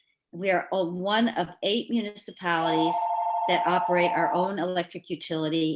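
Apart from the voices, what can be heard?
mobile phone ringing during meeting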